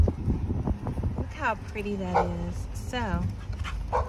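A nearby dog, chasing something, gives a few yelping barks and whines in a residential neighborhood in Fayetteville, North Carolina, mixed with wind rumble on the microphone and a person talking.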